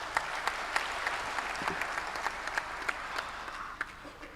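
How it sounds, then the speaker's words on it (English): Audience applause at a closing ceremony of a 16th-edition event: steady, moderately faint clapping from a crowd, with scattered sharper individual claps throughout. "it deserves your applause once again."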